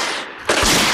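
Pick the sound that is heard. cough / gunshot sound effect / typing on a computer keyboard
gunshot sound effect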